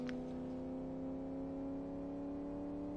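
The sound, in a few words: supercharged V8 car engine revving in video game Live For Speed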